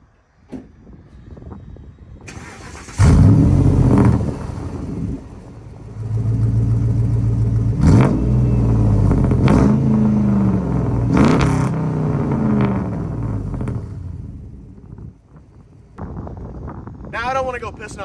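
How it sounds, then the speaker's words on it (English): A loud 2002 Dodge Ram pickup engine with a raw straight-pipe exhaust revs repeatedly, each blip rising and falling back to a deep rumbling idle. "I'm going to give you a few rev clips here too"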